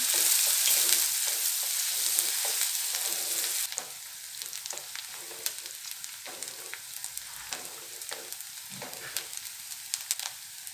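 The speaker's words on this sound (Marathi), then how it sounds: "कांदा छान लाल परतून घेणार आहे मी" Onion fries in oil in a pan with a steady close sizzle that eases to a softer crackle partway through, broken by occasional scrapes and stirring sounds; no talking.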